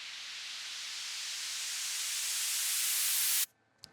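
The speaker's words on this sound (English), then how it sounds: "this white noise will come up and then lead back into the white noise again" A white noise sound effect in an Ableton electronic music track swells steadily louder and brighter for about three seconds, then cuts off abruptly into near silence with a faint blip.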